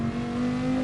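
A race car engine on throttle in Gran Turismo, held at a steady, high-pitched drone for under a second, moderately loud and alone.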